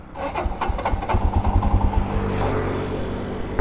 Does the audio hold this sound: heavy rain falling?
no